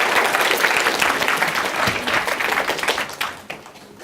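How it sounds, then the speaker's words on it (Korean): An audience at a university special lecture bursts into sustained, dense applause that carries on strongly before thinning into scattered claps toward the end. "박수 한번 쳐주십시오"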